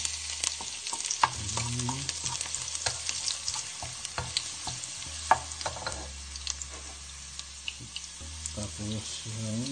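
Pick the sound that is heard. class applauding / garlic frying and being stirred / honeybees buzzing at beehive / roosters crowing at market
garlic frying and being stirred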